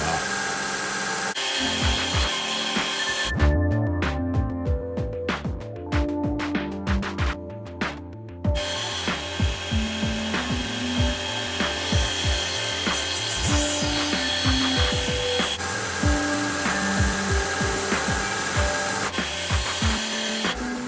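A Vonhaus 1-by-30-inch belt sander running a 240 grit belt, with a steady motor whine and a rough, uneven rasp as a workpiece is pressed against the belt, loud and close with no talking.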